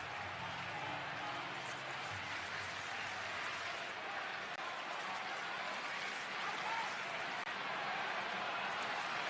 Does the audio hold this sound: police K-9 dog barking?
no